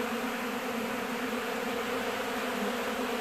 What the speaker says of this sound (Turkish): Arılar çıldırmış durumda.